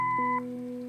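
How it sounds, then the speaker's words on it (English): A synthesized answering-machine beep from the adventure game Kathy Rain: a steady electronic tone that drops to a lower pitch partway through, clean and alone with no talking. "Leave a message after the beep."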